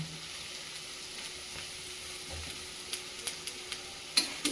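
Boiled chickpeas frying in roasted masala in a pan, a quiet continuous sizzle with a scattering of sharp stirring clicks and taps toward the end.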